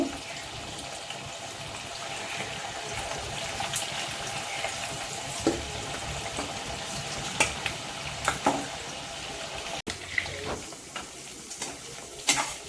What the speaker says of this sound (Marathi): असं आपण बारीक गॅसवर 10 मिनिटं परतून शिजवून घेऊ त्याला